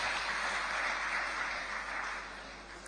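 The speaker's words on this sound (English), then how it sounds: "And for APMT, can I hear the round of applause?" Audience applause at the opening ceremony of a port authorities' annual council meeting, a steady wash of many hands clapping at moderate volume, holding evenly and easing slightly toward the end.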